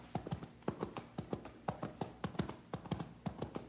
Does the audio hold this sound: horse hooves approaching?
yes